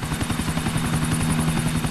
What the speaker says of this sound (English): No, I have a helicopter right here.